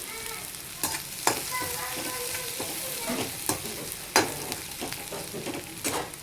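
Tempering of garlic and coconut sizzles and crackles in hot oil for kadhi, a close, steady frying hiss broken by sharp spatters and occasional clinks of stirring, with no talk.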